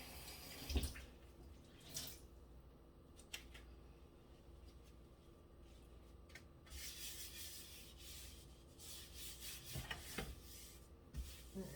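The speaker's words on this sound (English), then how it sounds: "I'm gonna rinse the cutting board." A cutting board is rinsed under a running tap, water splashing and rubbing against wood in uneven bursts with soft knocks, fairly quiet and without speech.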